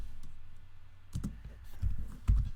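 Keystrokes on a computer keyboard while styling a web page with CSS, a few soft clicks early on, then louder, denser taps building toward the end, heard up close with no talking.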